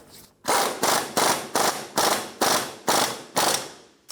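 A ratchet snugs down the front wheel hub nut on a 2003-2007 Infiniti G35, making eight loud, evenly spaced clicking strokes, close and alone.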